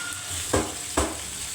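Liver frying in a pan gives off a continuous close sizzle, broken by two sharp knocks of stirring about half a second apart.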